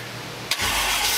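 A car engine fitted with an MSD Atomic EFI fuel injection system cranks and fires, catching halfway through and settling into a steady, loud running rumble with no voices.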